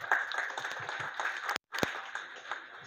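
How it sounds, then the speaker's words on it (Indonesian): Audience applause at a Q&A panel discussion on leadership in Aceh: fairly faint, steady crowd clapping that drops out for a moment midway, then resumes. "Kita berikan tepuk tangan kepada"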